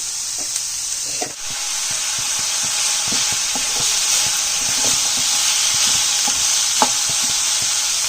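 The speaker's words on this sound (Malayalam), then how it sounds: "2 മീഡിയം സൈസ് ഉള്ളി, കുറച്ച് ഉപ്പ് ചേർക്കുക. ഉള്ളി വേഗം വഴഞ്ഞു വയ്ക്കുക." Medium onions with salt and curry leaves sautéing in a pan for kadala curry: a steady, close hissing sizzle broken by frequent light ticks and scrapes of stirring, with no voices.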